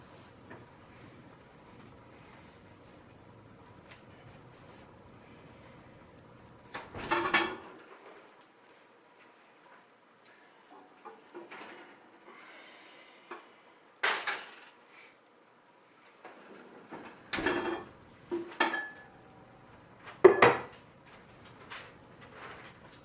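A baked sourdough loaf is taken out of the oven. Quiet clanks, bumps and metallic knocks of pans and oven parts come in scattered bursts over a low hush.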